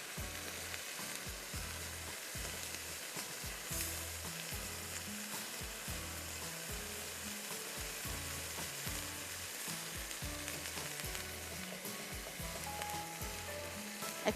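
Minced meat (keema) frying in oil in a pan, a loud continuous crackling sizzle with rhythmic low thumps from stirring, steady and close throughout, no voices.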